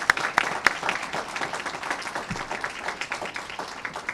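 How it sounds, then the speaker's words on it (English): Audience applause at a Seattle mayoral bill-signing ceremony for building emissions legislation, honoring city partner teams; dense, steady clapping from a gathered crowd with a few sharper nearby claps. "let's give them a round of applause"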